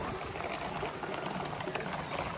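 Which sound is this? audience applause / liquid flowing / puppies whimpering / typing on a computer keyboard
liquid flowing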